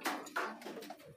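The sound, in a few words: pigeons cooing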